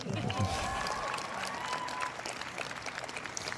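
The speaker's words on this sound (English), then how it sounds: "Yes, you may applaud." An audience at a university freshman convocation breaks into applause, a steady, moderately distant wash of clapping that holds evenly throughout.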